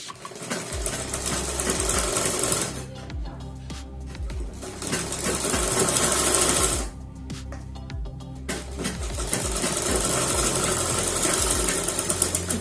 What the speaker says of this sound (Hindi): अब हम इस पे ऊपर साइड सिलाई डालेंगे फिनिशिंग के साथ